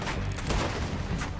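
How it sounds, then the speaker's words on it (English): A dense burst of rapid gunfire from a snowy shoot-out in the video game Red Dead Redemption 2, loud and continuous, with overlapping shots and no pauses between them. "I think I shot that one in the ass"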